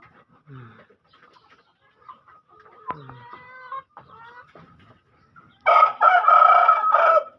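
Ayam ketawa chickens in a backyard give scattered soft clucks and calls, then a rooster lets out a loud, close, drawn-out crow at the end.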